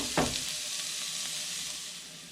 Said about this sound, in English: And I'm going to use this to saute this fresh diced jalapeno.